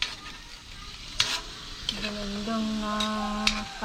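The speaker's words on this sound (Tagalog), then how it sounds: "niluluto na ni misis yung ano yung binili ko kahapon na mga gulay" Vegetables, including string beans, cook in a pan with a soft frying sizzle and a few stirring clacks, while a voice hums or speaks in a sustained tone over the later part.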